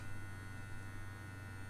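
A handheld massager buzzes steadily at a medium vibration strength, producing a constant close electric hum with no variation across the moment and no voices.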